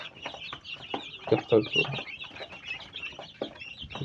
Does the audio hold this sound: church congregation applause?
no